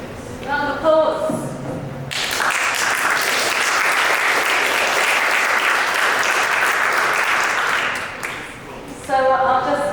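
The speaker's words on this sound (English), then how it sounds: "Round of applause." An audience at a physics tournament bursts into applause after a speaker's short remarks. The clapping holds loud and even for about six seconds, then fades as talking resumes.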